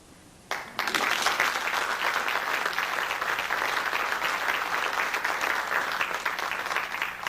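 Audience applause breaks out after a brief quiet moment and carries on steadily for about seven seconds, dense and sustained at a presentation of an international ufology congress.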